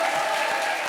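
Studio audience applause at a Comedy Circus stage comedy show, a dense steady wash of clapping filling the whole second at even loudness, with no voices rising above it.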